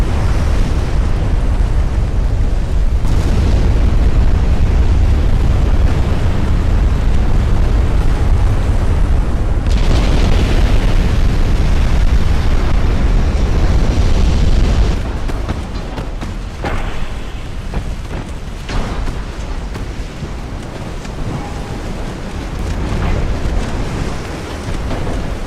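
A warship's ammunition cooks off in the naval battle game Ultimate Admiral: Dreadnoughts, with deep rumbling explosions and booming roar that stay heavy for a long stretch before easing into a lower, uneven rumble.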